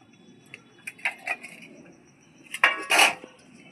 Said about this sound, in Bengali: ডালের বাটিটা আমি বসিয়ে দিচ্ছি।